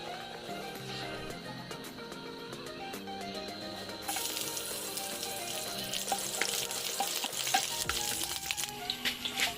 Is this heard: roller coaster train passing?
no